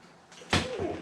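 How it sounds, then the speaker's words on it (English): A bottle of Enegren Brewing Nighthawk beer, a Schwarzbier, is cracked open with a single short, sharp pop followed by a brief fizzing hiss, close and moderately loud. "I'm going to crack this open, and let's get the party started."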